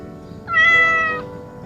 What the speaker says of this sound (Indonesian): Iya, kucing, betul.